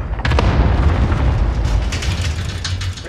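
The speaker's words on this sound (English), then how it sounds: "Throwing tear gas." A tear gas grenade thrown in a video game, heard as a loud booming burst followed by a rumbling, hissing wash that slowly fades, with no talking.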